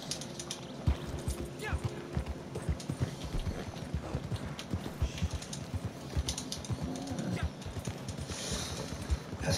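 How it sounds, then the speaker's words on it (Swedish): Steady clip-clop of horse hooves, a quick continuous rhythm of light knocks running throughout at moderate level, with faint background clatter. "Inte min häst."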